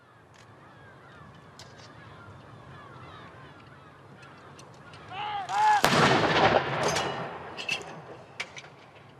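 Artillery gun salute fired in Gibraltar to mark the death of Prince Philip: one loud, sharp boom about midway, preceded by distant rumbling ambience and followed by a long rolling echo and crackle that slowly fades.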